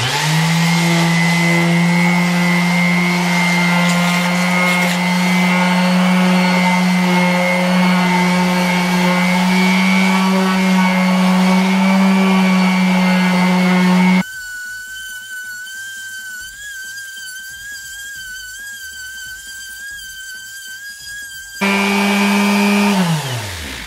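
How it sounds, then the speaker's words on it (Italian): An old, large orbital sander on wood whines steadily with a strong motor hum, cuts out briefly leaving a thinner high whine, then roars back up. "come levigatrice orbitale utilizzerò questa che è grossa, una vecchissima levigatrice ancora di mio padre"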